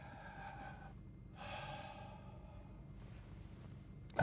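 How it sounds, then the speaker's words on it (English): A patient takes a deep breath in and out during a chest examination, a soft airy inhale followed by a longer breathy exhale, close and quiet, with a brief bump at the end. "big breath in and out"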